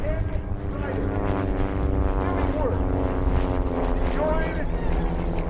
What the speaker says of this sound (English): Tell you more about these amazing airplanes as they synchronize their opening in double hammer heads